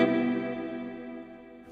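A single Fender Stratocaster electric guitar chord with reverb added rings out and slowly decays, sustaining for under two seconds at moderate volume with no talking.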